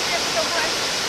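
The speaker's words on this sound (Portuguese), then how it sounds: "Olha só a Cachoeira do Paiva lá." Cachoeira do Paiva waterfall at Tepequem, Roraima, gives a steady, broadband rush of falling water that fills the short moment evenly, close and fairly loud, with no voices over it.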